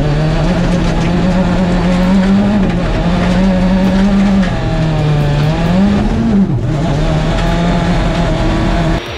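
A rally car idles loudly and steadily at the start of the second special stage of Rally San Luis 2024 in Argentina, its engine note close and continuous, rising and dipping slightly as it waits to launch.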